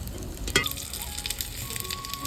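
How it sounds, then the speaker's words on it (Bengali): Paneer paturi wrapped in pumpkin leaves fries on a clay stove with a continuous close sizzle and faint crackle, broken by one sharp knock early on. "পাতাগুলো যতক্ষণ না ভাজা ভাজা হচ্ছে"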